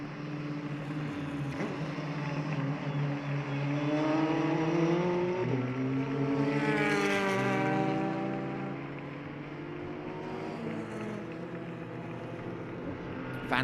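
Single-seater race cars at the Jarama circuit during a classic racing event, engines swelling as a pack passes close by with rising and falling pitch, then fading into a quieter distant drone.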